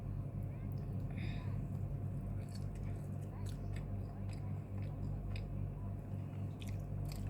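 Someone chews a soft milk-flavoured snack with a peach filling, producing faint, moist squishing and light biting sounds up close over a steady low background hum.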